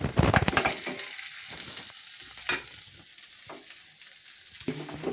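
Boiled potatoes hit a hot pan already frying with red chili and coriander powder for vada pav filling, giving a loud burst of sizzling and stirring at first that settles into a softer, steady fry with occasional scrapes.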